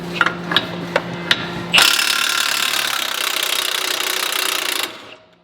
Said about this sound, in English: So we take our 27 millimeter impact, you put it on this bolt.